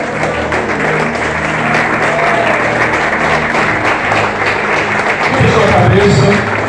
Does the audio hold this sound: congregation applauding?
yes